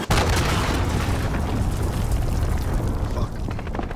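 A cruise missile strike in Call of Duty Modern Warfare 2019 lands close and loud, a heavy booming blast that rolls on as dense rumble for several seconds.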